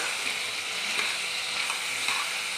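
Chicken frying in oil with dried chili and garlic paste, in a dish made with black cumin paste, sizzles steadily and loudly up close with no talking.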